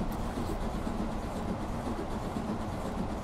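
A train running in the Transport Fever game on the East Coast Main Line, a steady rumbling rail noise with faint rhythmic clatter, continuous and moderately loud with no talk.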